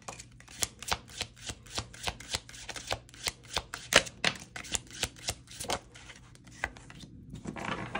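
Cards being shuffled in a steady run of crisp riffling bursts, close and fairly quiet, with no voices.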